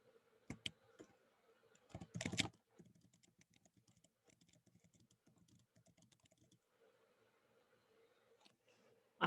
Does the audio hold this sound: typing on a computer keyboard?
yes